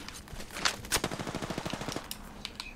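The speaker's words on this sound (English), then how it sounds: "I started shooting this shack." A rapid burst of automatic gunfire in a video game rattles off as shots are fired at a shack, a steady fast string of reports lasting over a second, loud and near, with no talk over it.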